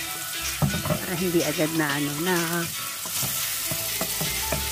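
Ginger, onion and garlic sauté in a hot pan for a Filipino Bicol express, giving a steady close sizzle and stirring scrapes, with a voice talking over it.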